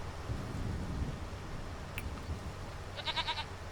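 Goats bleating in the farming game Farming Simulator 25, a short cluster of harmonic bleats near the end over a steady low ambient hum.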